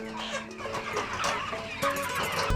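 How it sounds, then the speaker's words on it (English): Around two hundred chickens crowd a small village chicken house in The Gambia, clucking and squawking together in a busy, continuous chatter at close range. "There are about 200 chickens in this small house initiated by the man himself."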